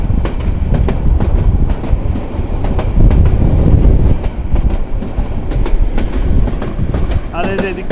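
Haor Express train rolling on the Mohanganj to Dhaka line in Bangladesh, a continuous close rumble of the carriage with repeated wheel clacks over rail joints and a brief squeal near the end, with faint chatter in the background.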